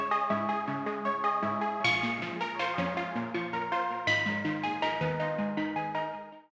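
An Arturia JUP-8000V synth preset plays a rhythmic sequence of bright, repeating tones with steady note attacks, clear and alone.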